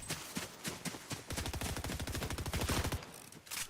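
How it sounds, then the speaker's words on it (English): Rapid bursts of video game gunfire, a dense fusillade of shots that swells into a sustained machine-gun rattle, loud and close, then trails off into a few scattered shots near the end. "I didn't even know where that gunfire was coming from, to be honest with you."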